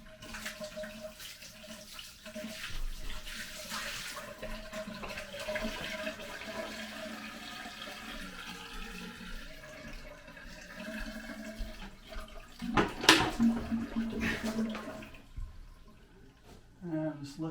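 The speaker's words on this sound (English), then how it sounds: "I'm going to pour water all around the base and make sure that it drains towards the" Water poured around a newly installed shower base splashes and trickles steadily across the hard surface toward the drain, with a brief louder splash partway through and a low voice talking underneath.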